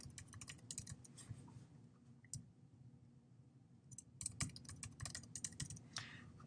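Quiet bursts of computer keyboard typing as a username and password are entered, rapid irregular key clicks in two clusters separated by a near-silent pause, close and soft with no voices.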